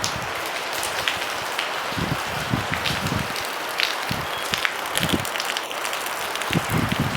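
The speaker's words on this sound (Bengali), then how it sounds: "এখন পুরো বৃষ্টি পড়ছে" Heavy rain pouring down near an old zamindar mansion, a dense continuous wash of patter with scattered heavier drips and splashes, steady and close with no voices.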